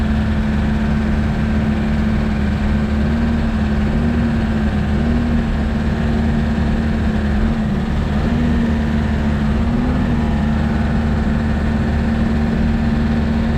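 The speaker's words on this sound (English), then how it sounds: "There's the engine running." The engine of a grading machine runs at a lot expansion job, a loud, steady, continuous low drone with a constant hum and no voices.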